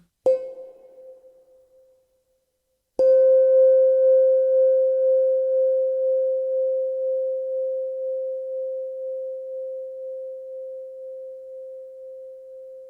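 Two struck handbell tones: a brief one that fades, then a longer ringing note that sustains and slowly decays, clean and alone.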